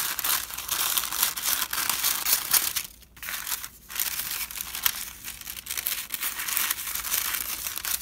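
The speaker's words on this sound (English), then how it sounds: "I'm going to cut a couple of strips off this parchment" Parchment paper crinkles and rustles steadily as strips are cut from a sheet, a dense, close crackling that briefly drops out twice before resuming, with no voices.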